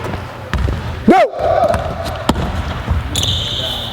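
A basketball bounces once on a gym court during a stance-and-dribble drill, a single sharp thump among brief voices and faint squeaks nearby.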